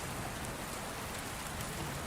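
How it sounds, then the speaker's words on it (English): Steady rain falls in a forest, a dense, unbroken hiss of drops on surfaces, even and enveloping with no voices. "carried gently forward by the steady rhythm of the rain"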